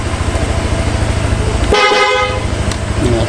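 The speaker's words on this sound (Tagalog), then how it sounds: "Pinakasabay yung busina sa passing light." A single car horn honk sounds loud and close for about a second, cutting through a steady rhythmic engine idle.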